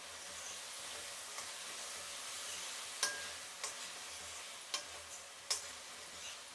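Tomatoes cooking down with turmeric in a pan for a Tamil Nadu style sundakkai tamarind curry, a quiet soft sizzle broken by several sharp utensil taps and clicks of stirring, no talking.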